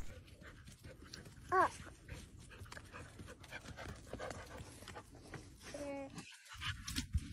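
A blind dog rescued from a tar pit pants steadily and close by, with one brief high whine partway through and faint voices in the background.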